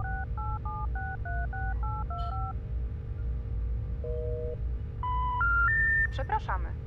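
A telephone keypad in the video game Serious Sam beeps through a quick run of dual-tone dialing tones, followed by a short steady tone and a rising three-note error signal, over low background hum.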